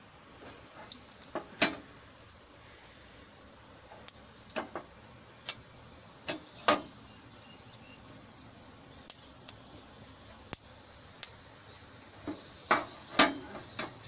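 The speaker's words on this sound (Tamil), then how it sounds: "வெந்தயம் போட்டுக்கலாங்க, வெந்தயம் சவக்கட்டுங்க" Fenugreek seeds crackle in hot oil heated in a pan for prawn kuzhambu, giving a steady quiet sizzle broken by sharp scattered pops and ticks throughout.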